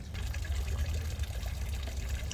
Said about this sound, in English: So here's the water feature here in the shade tree garden.